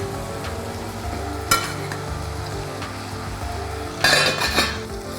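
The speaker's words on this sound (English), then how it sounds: "Now I mix the lentils and onions together very nicely." Lentils and onions being mixed in a pot give a low, steady stirring rumble, broken by two sharp metallic clinks of a spoon against the pot, close up and with no talk.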